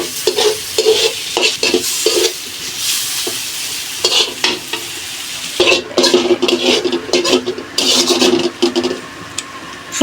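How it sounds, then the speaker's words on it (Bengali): A spoon stirs chepa shutki bhuna, a dried fish curry, in a pan as its liquid cooks down, scraping in a steady repeated rhythm over a continuous close sizzle, with occasional clinks of metal. "এভাবে নাড়াচাড়া করে একটু জলটা শুকিয়ে গেলে পরে নামিয়ে ফেলবো।"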